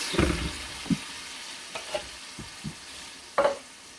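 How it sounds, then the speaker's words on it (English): Diced tomatoes go into a hot casserole pan with chicken, giving a soft background sizzle broken by a few separate stirring scrapes and thuds spread across a few seconds. "I'm gonna go ahead and add the diced tomatoes"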